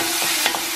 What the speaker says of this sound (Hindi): ये कट किया हुआ बनाना है ना उसको भी एक मिनट फ्राई करना है